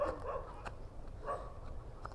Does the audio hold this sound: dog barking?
yes